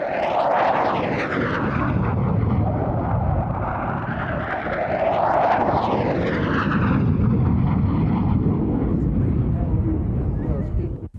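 A Hawker Hunter jet roars past at Biggin Hill Air Fair in 1996 with a loud, sweeping rush that swells twice, heavy and continuous, with no voices.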